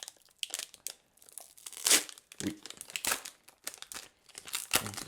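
A Pokémon booster pack being torn open, with bursts of crinkling foil and sharp ripping, close and moderately loud, in irregular bursts with brief pauses between.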